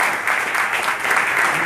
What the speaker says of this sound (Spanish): Entonces vamos a hacer un aplauso para ustedes